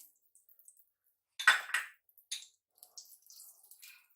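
Green chillies are dropped into a pan of heated oil while vermicelli is being cooked, giving a short burst of sizzle and a few metallic clinks and taps around it, with quiet gaps between.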